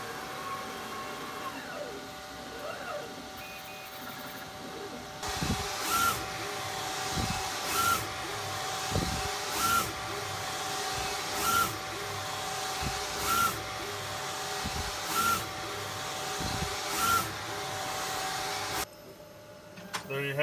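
A Mimaki printer runs a print job with a steady mechanical hum and hiss, punctuated by regular clicks and whooshes as the carriage sweeps back and forth at an even pace, fairly close, then stops abruptly.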